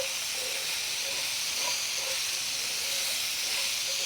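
Steak pieces searing in a hot pot with olive oil, giving a loud, steady, even hiss that carries on without a break.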